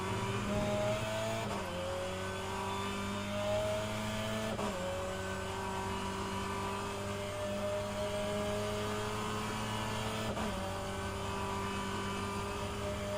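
Engine of a GT3 race car in a sim racing game at Indianapolis, a continuous high drone that dips at a few gear shifts, with no talking over it.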